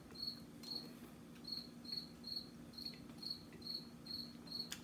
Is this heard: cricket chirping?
yes